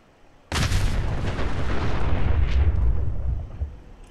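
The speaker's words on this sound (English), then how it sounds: "Oh, the car's gonna blow." A car blows up in the video game Fallout 4 with a sudden loud, close blast that rumbles and crackles for about three seconds before fading, with no talk.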